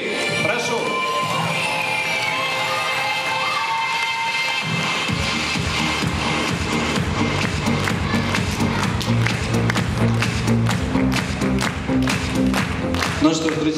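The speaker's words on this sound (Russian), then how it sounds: "И под ваши дружные аплодисменты я приглашаю жюри." Audience applause and cheering at a mother-and-daughter stage contest show as the jury is called up, a dense steady crowd roar with clapping that continues throughout, with voices mixed in.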